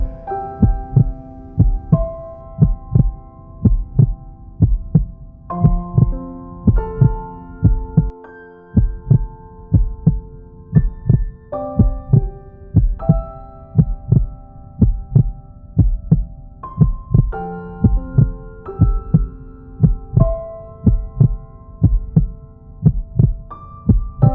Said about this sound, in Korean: 눈을 감고 나의 심장 박동을 느껴보세요.